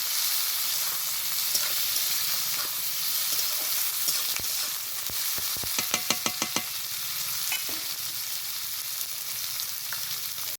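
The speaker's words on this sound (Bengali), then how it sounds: "ফোড়নটা এবার দিয়ে দেবো পেঁয়াজ কুচি। পেঁয়াজটাকে খুব ভালোভাবে ভেজে নেব, একদম লাল করে ভাজবো।" Broad hissing sizzle of chopped onions frying in a hot pan, with a cluster of sharp metallic clinks and scrapes of stirring midway through.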